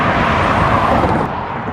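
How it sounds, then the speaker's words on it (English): Cars roll past the Tropicana on the Las Vegas Strip, a loud close road rush of tires and engines that fades slightly near the end. "As the cars go by Tropicana,"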